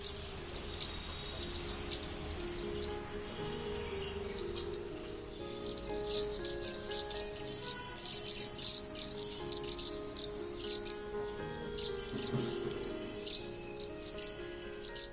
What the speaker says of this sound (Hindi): जिसके बदले में उन्हें उनकी चहचहाहट सुनने को मिलती है